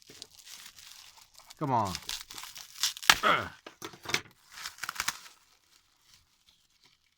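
Bubble wrap and scotch tape crinkling and tearing as a small package of SMD LEDs is opened, close rustling bursts with a brief voice in the middle, then quiet.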